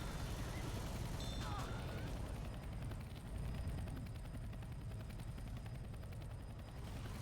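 A rescue helicopter on the Dark Carnival level of Left 4 Dead 2 thunders close by, its steady, loud rotor chop pulsing continuously with a brief chirp of game effects early on.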